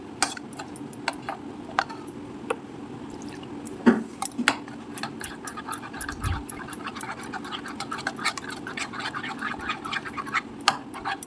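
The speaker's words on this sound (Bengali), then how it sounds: "বা এইভাবে চামচ দিয়েও ব্যাটারটা রেডি করে নিতে পারো" A spoon mixes paneer pakoda batter, making faint, irregular clicks and soft wet squishes against the bowl, with a few louder taps.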